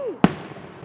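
A single sharp firework burst pops against a quiet background, preceded by a faint descending whistle and followed by a short fading crackle.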